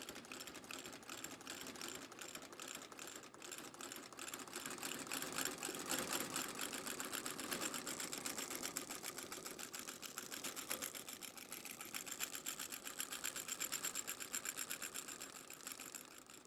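Industrial sewing machine stitching the first row on a cowboy work boot sole, a steady rapid mechanical clatter running continuously and fairly loud throughout, with no talking.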